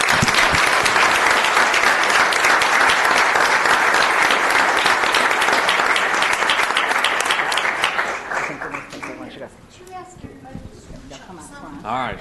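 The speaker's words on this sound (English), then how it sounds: "let's give them a round of applause" Loud, dense round of applause from a city council meeting audience, sustained for about eight seconds before thinning into scattered claps and a few quiet voices.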